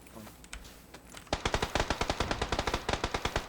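Automatic gunfire in the video game PUBG Battlegrounds: after a quiet start, a rapid, regular string of about twenty loud sharp shots keeps going to the end, with no talking over it.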